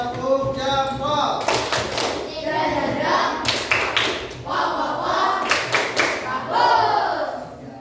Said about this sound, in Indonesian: Kita kasih tepuk jempol.